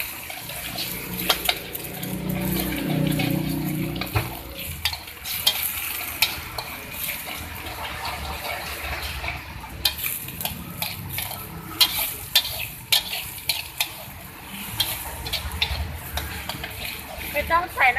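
Six eggs dry-scrambled in a pan for a spicy chili-garlic egg dish, with faint sizzling under repeated stirring scrapes and occasional clinks, while someone talks intermittently.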